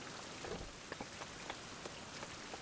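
Rain falls steadily in the video game Survival: Fountain of Youth, a soft continuous patter with scattered individual drops, faint and without voices.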